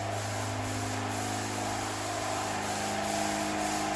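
Steady broadband hiss of spray painting on a VW Golf Mk5's rear bumper and spoiler, continuous and even under a constant low hum, with no talk.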